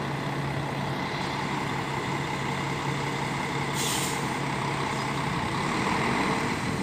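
Intercity coach at Brasília's interstate bus terminal, a steady near engine idle with a low hum running throughout, plus a brief hiss of air brakes partway through, no voices.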